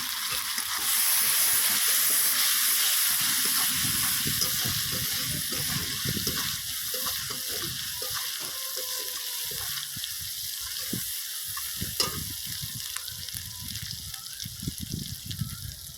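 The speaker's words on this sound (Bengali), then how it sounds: "হলুদে গুঁড়ো লঙ্কার গুঁড়ো কাশ্মীরি গুঁড়ো লঙ্কা সব একসঙ্গে দিয়ে দিলাম অল্প একটু জল দিয়ে নেড়ে ছেড়ে নেব" Turmeric, chili powder and Kashmiri chili powder hiss and sizzle in a pan after a splash of water, a steady steamy wash with occasional stirring clatter, close and moderately loud, no talk.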